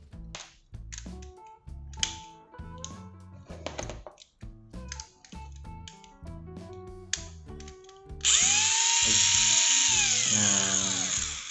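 A Tamiya Mini 4WD car gearbox: light clicks and taps while it is handled, then the motor spins up into a loud, steady high-pitched whine for the last few seconds, close by.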